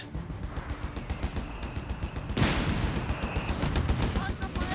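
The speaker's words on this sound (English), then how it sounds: "M16 here, pushing in with its 450 cal machine guns" Bursts of gunfire from the M16 half-track's quad .50 cal machine guns in Company of Heroes 3, repeated rapid cracks in a dense battle mix that turns louder and fuller partway through, with other combat noise beneath.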